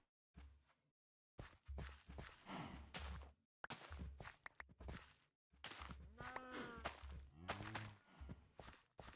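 A cow in the Minecraft video game moos repeatedly, faint and fairly close, with footsteps and soft thuds around the calls and no clear talking.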